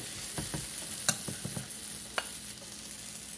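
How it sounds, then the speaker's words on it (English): A cheese and egg mixture cooks on a waffle iron with a steady soft sizzle, broken by a few light scraping taps as it is spread, close and fairly quiet with no voices. "we're going to put our cheese and egg mixture on the waffle iron"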